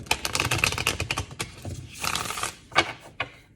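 Stiff tarot cards are shuffled close up with quick bursts of riffling and clicking, pausing briefly and then starting again, with no talking.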